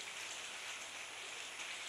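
Rain falling outside after dark, a faint, even hiss of drops on surfaces, steady and unbroken, with no talk.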